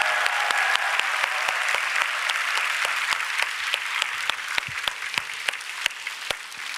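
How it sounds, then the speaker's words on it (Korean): Congregation at a Korean church Sunday service applauding in welcome, a dense, continuous round of clapping with some sharp individual claps standing out, steady and fairly loud throughout. "더 박수를 크게 쳐줘야 됩니다."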